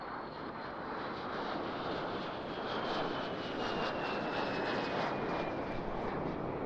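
A twin-boom jet aircraft powered by a Halford Goblin turbojet passes at the Eastbourne International Airshow with a steady, loud, broad roar and a faint, slowly falling whine across the whole span.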